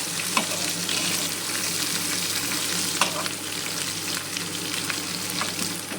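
Sliced onion and other ingredients fry together in hot oil with a dense, continuous sizzle. Occasional clinks and scrapes come from the stirring.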